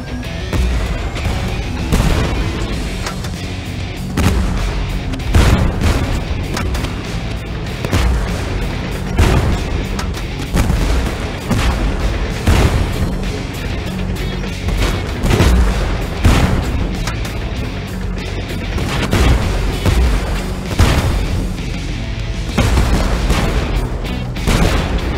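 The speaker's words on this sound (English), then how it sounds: "Under bombardment!" Artillery bombardment in the tank combat video game Tank Force: dense, continuous booms and crashing blasts overlap for the whole stretch, loud and sustained, with no pause between impacts.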